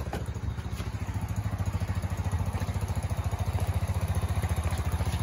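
A 2011 Sachs Madass 125 motorcycle engine idles close by with a rapid, even single-cylinder putter and a slight mechanical clatter, holding steady throughout.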